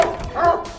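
A single short dog bark or yip from a video game, brief and moderately loud, with no talk over it.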